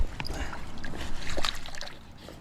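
Water splashes and trickles over a fishing boat being hosed down after a striped bass trip on the Delta, with short irregular bursts of spray close by.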